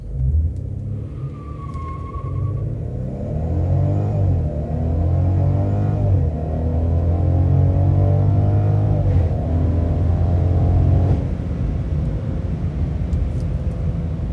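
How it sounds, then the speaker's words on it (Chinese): A 2021 Mercedes-Benz C300 AMG Line accelerating hard from 0 to 100 km/h, engine rising through the revs with a brief shift dip, a loud rumbling climb heard from inside the car, then easing off near the end. "我们现在就来看一下它的0到100加速"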